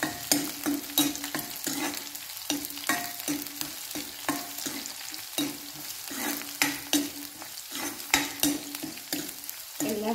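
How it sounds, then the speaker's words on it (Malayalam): Green chillies fry in a pan for a Kerala-style ginger curry, stirred with steady, rhythmic scraping strokes over a constant close sizzle, with no talking. "നന്നായി ഇളക്കി കൊടുക്കും"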